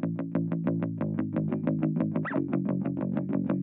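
Bass guitar with only its upper band passed through a steep 250 Hz high-pass filter, a fast, steady run of evenly plucked notes sounding thin and buzzy, alone and moderately quiet.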